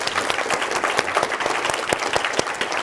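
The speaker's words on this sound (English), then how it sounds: "Just a round of applause to all of you" A live audience at a national student finalists' pitch event claps in steady, dense applause, many hands overlapping close and loud for the whole stretch with no voices rising above it.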